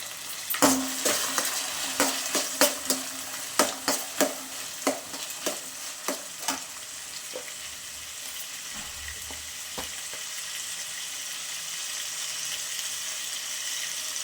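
Onions, peas and carrots frying in a pan while being stirred, with a run of sharp spoon-on-pan scrapes and clinks over a steady sizzle that carries on alone after the stirring eases.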